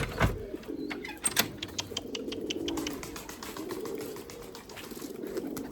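Erzurum white breeding pigeons coo steadily at close range, a low, continuous rolling murmur with soft wing flutters and scattered faint chirps layered over it.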